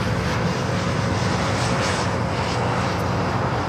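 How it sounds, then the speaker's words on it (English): Air Tahiti Nui Dreamliner jet airliner arriving from Paris at LAX and taxiing toward the gates, a steady loud engine roar with broadband rush and a faint whine, continuous and close, no voices. "That was that Air Tahiti Nui Dreamliner coming from Paris heading into the gates."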